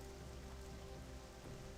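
Rain falls in World of Warcraft Classic, a faint, steady pattering hiss with a low background hum and no voices.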